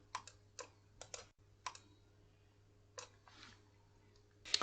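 Several crisp mouse clicks while working in CATIA V5 CAD software, coming in short separate bursts with pauses between them, close and quiet over a faint steady hum.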